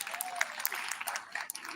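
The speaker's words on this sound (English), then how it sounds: "Big round of applause for her." A short burst of audience clapping at a poetry night, scattered sharp claps with a voice partly underneath.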